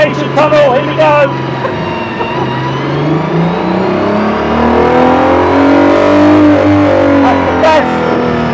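An Aston Martin Valkyrie's engine revving inside a road tunnel: a loud, near, echoing scream that rises and sweeps through gears, with a voice heard over the first couple of seconds.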